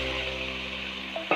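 Wheat rava (sampa) stirred into hot oil and ghee in a pan, a soft, steady frying hiss with faint scraping, close and alone, with a small clink near the end.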